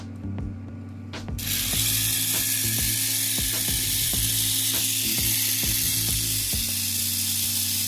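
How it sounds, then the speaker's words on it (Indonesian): The small electric motor of a Mini 4WD Dash 1 Emperor black special on an MS chassis starts up and runs with a steady, close, high-pitched whine, threaded with rhythmic gear ticking. "Suara motornya"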